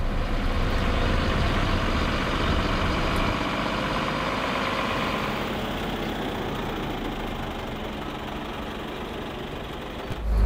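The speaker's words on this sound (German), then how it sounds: "Und jetzt bleiben wir einfach im Standgas?" A Mercedes Zetros off-road truck's diesel engine idles steadily at close range, a continuous low rumble with a broad hiss that eases slightly partway through and holds unbroken to the end.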